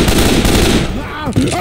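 Heavy automatic gunfire with frag rounds blasting in Left 4 Dead 2, a dense loud burst that thins toward the end with a short pause before a final shot.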